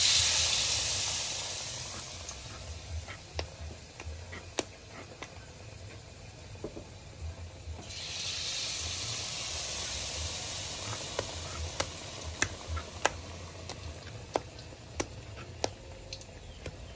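Tempe gembus fries in hot oil, a continuous hiss and sizzle with sharp pops and crackles scattered throughout, close and steady, with no talk.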